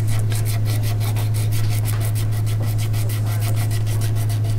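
A wooden guitar neck is sanded by hand in rapid, regular back-and-forth strokes, each a close, loud rasp, with a steady low hum running underneath.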